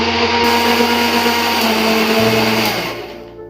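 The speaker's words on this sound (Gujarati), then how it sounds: "તો હવે મિક્સરમાં નાખી દે છે" A mixer grinder blends paneer bhurji masala with a loud, continuous motor whir that holds steady, drops in pitch, then winds down near the end.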